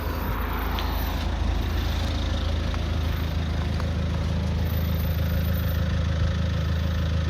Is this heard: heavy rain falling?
no